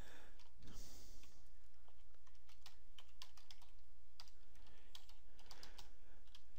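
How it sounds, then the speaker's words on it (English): Keys clack in quick, irregular bursts as a T-SQL backup command is typed on a computer keyboard, close and fairly quiet, with no talking. "If I were to type in exactly the same command and rerun this"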